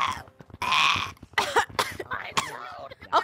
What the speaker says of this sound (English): I'll cough on you.